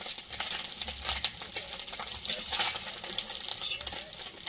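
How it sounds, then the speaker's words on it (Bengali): Flattened rice (chira) fries in a pan while a utensil stirs it, giving a continuous close sizzle with scraping strokes spread evenly throughout and no voices. "চিড়ে ভাজা"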